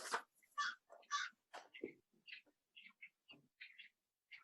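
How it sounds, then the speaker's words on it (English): A wall clock sounding an electronic bird call, a series of chirps, caws and warbles in short bursts, clear and loud against an otherwise quiet background. "Someone's got a loud bird in the background. Oh, it's my clock."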